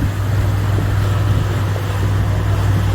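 A sailing boat's single starboard engine runs at full revs, about 3,000 rpm, at 7 knots on a flat sea in the Gulf of Corinth, a steady, loud low drone with wind and water wash layered over it.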